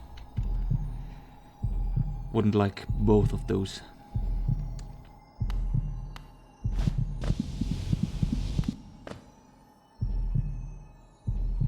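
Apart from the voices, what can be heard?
pulsing heartbeat sound in the video game Hollow Knight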